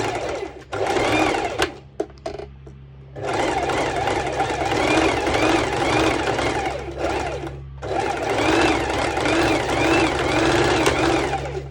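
A sewing machine running straight stitches along bikini bottoms, in three long loud bursts of rapid even whirring separated by brief pauses, close by, with a low hum beneath.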